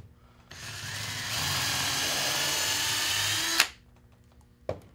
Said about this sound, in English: we can go ahead and pre-drill one hole